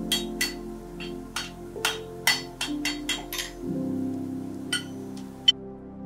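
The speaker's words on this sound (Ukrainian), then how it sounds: "Розпечений метал під сильними ударами фактично зварюється." Blacksmith's hammer blows ring out on red-hot metal in a water-powered village forge, about a dozen sharp strikes in an uneven rhythm over a low steady hum, fairly close.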